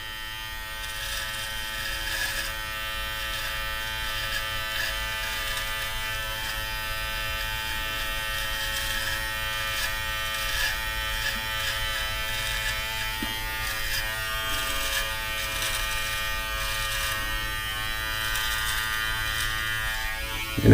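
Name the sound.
Brio Beardscape Pro electric trimmer trimming a beard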